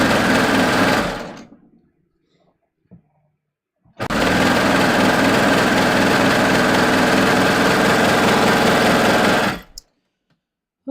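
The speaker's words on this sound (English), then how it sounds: "let me just sew this." A sewing machine stitches a skort in two loud, close bursts of fast whirring, the first trailing off after about a second and a half, the second running steadily for several seconds before stopping.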